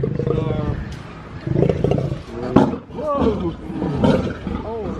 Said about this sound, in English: Wow, okay, that's a roar. That's a roar.